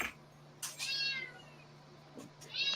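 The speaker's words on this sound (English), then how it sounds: "You hear the cat in the background meowing?" A cat meows several times in the background of a room, a few drawn-out cries spaced apart over a steady low hum, moderately faint and with no talk.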